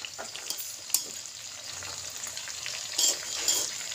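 Tomatoes fry in hot oil in a pan, giving a steady close sizzle with a few sharper crackles and stirring scrapes, including louder bursts near the end, without any talk.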